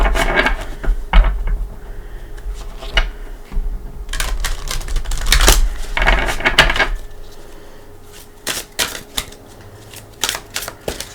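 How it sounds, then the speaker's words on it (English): Playing cards being shuffled by hand, a run of dense riffling bursts and soft card slaps, close and fairly quiet, repeating in several quick rounds with brief pauses between. "I'm going to give them a couple shuffles."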